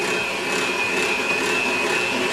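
An electric mixer on its lowest speed works dry powder in a bowl for cake batter, giving off a steady, close whirring hum with a constant whine and no pauses.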